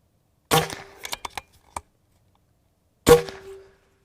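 Two sharp, loud pneumatic cracks from an Umarex Airsaber Elite X2 air gun with a 14.7 cubic inch tank ring out in an open field, several lighter clicks and knocks in between, with no talk.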